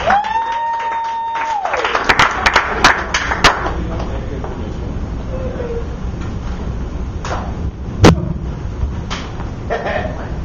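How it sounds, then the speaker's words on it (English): Audience applause following a spoken introduction, a burst of clapping from a crowd that swells early and then thins into scattered claps and a few thumps amid murmuring voices. "Applause for Stephen Ferris."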